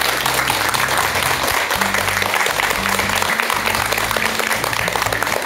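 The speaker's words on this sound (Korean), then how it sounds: "여러분 박사님께 큰 박수 한번 부탁드리겠습니다" A lecture audience applauds a speaker steadily for several seconds, a dense wash of clapping hands with no voices rising above it.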